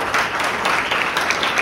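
A crowd at a live pro wrestling show applauds in a steady, dense wash of clapping that is loud and sustained, with faint voices mixed in.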